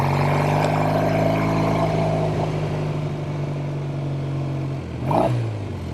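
A 1970 Triumph TR6R motorcycle engine runs steadily while riding, a low droning thrum with a brief rise in revs near the end, close and loud with wind noise.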